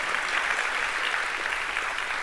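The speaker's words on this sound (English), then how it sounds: "I'll take the applause" Steady, dense applause from an audience fills the whole stretch at close range, a continuous wash of clapping with no gaps and no voices on top.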